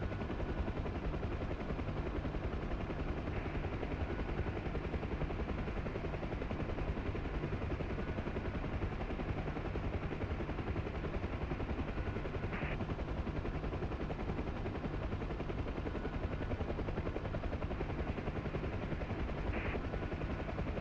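Apache helicopter in a video game, a steady rotor drone holding level throughout, with a couple of brief sharp bursts standing out against the continuous engine noise.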